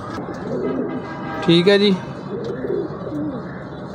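Caged pigeons coo in soft, repeated rolling calls, one louder burst in the middle, while someone talks over them.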